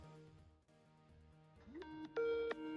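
A Skype ringtone plays faintly at first, then rises into a brighter, louder electronic melody of rising and sustained tones near the end, with no voices.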